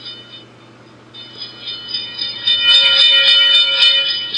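An N scale model railroad sound module rings a train bell, a steady electronic ringing that grows louder partway through and continues without pause.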